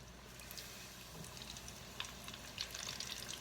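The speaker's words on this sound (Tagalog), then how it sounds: "Ipiprito natin siya." Flour-dusted prawns deep-frying fully submerged in hot oil, a steady low crackling sizzle with scattered small pops and bursts, close and alone without talk.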